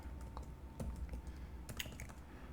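Quiet typing on a computer keyboard while configuring a Juniper SRX cluster, a scattering of faint, uneven keystroke clicks over a low steady background hum.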